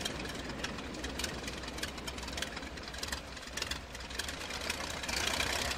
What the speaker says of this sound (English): turn the engine off